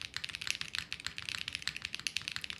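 Fast, bright clacking from a custom Parallel Snake mechanical keyboard typed directly on a bare desk with no pad, dense rhythmic keystrokes close to the mic with no talking.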